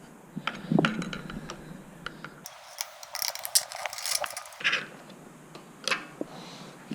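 Mechanical ratcheting and tool clicks while bolts are snugged down to align a SRAM Code bicycle disc brake caliper, a run of small close ticks and metallic clicks with a brief quiet stretch in the middle.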